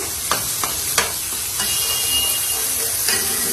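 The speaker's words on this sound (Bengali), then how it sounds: "এই ইলিশ মাছ তেলটা একটু বাদামি কালার হয়ে আসলে আমি রসুন বাটা এখানে রসুন বাটা ইউজ করতেছি" Hilsa fish frying in hot oil with garlic paste, a steady close sizzle and hiss punctuated by a few sharp spatters and stirring taps.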